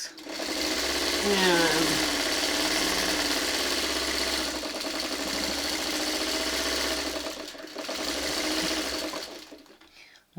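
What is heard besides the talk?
sewing machine stitching quilt blocks together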